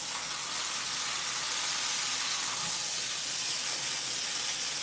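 Grease from bacon peanut butter burgers sizzling in a cast iron pan, a steady, dense hiss that stays loud and unbroken throughout with no talk.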